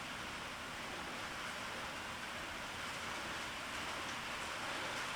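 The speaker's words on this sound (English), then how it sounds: "of course it started to rain." Steady rain falls outdoors during work on a VW sand rail, a constant soft hiss of drops that holds at an even level for the whole stretch, with no voices.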